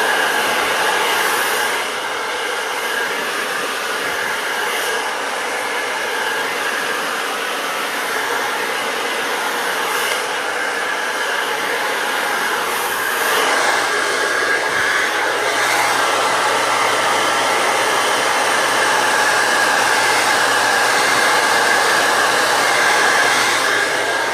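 Steady, loud whoosh of a hair dryer blowing hair dry over a round brush, continuous and close throughout, with slight shifts in tone as the airflow moves.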